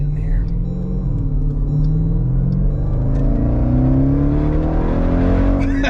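A powerful car accelerates hard from near and close by, its engine note climbing steadily in a loud continuous roar that builds to the end with no talk.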